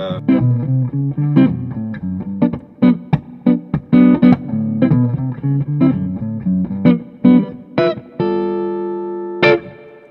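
A Sterling by Music Man Valentine electric guitar plays clean, mellow, jazzy chords and single notes with a touch of reverb, ending on a ringing chord and one sharp plucked note.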